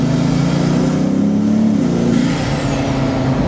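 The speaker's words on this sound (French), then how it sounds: "Ce qui m'impressionne le plus, c'est le bruit des wastegates." A loud Bugatti Veyron engine idles and burbles steadily, with a hissing, whooshing release from the turbo wastegates over a deep rumble, close by.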